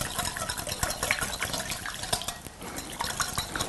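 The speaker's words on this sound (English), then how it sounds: "I'm going to whisk all this together." A whisk beats a salsa dressing of garlic, oil, sugar and salt in a bowl, giving quick, repeated clinking and sloshing strokes close up, with no clear talk.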